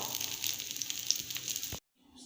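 Dosa batter frying on a hot pan with oil poured around it, a steady close sizzle that crackles along for nearly two seconds before cutting off abruptly.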